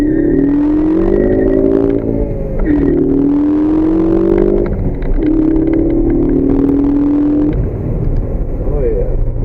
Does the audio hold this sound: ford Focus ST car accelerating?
yes